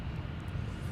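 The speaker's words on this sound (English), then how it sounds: "Got a BizJet that flew by just now." A business jet passing at MSP airport produces a steady, fairly loud low roar that persists across the short moment without any voices over it.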